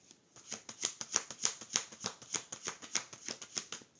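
Oracle card deck cut and riffled by hand, a quick steady run of crisp card flicks close up, about a dozen sharp snaps in rhythm with no voices.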